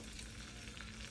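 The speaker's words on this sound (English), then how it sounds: "Put a piece of butter in the middle there to lubricate it. And we're gonna drop our egg in there." An egg fries in butter in the hole of a slice of Texas toast, giving a dense, continuous crackling sizzle, steady and fairly quiet throughout.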